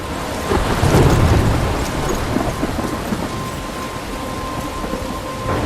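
Heavy rain pouring steadily in a Life Is Strange storm, with a loud rumble of thunder early on before the downpour continues alone.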